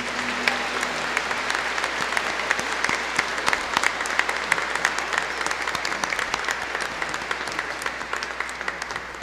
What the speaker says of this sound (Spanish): Pido un aplauso para Monseñor Héctor Miguel.